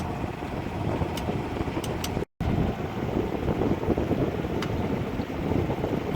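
A sailboat runs under engine power into a headwind near the Île de Ré bridge off La Rochelle, giving a steady low drone under gusty wind and water rush, with one brief dropout partway through.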